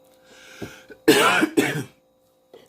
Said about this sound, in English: other than this cough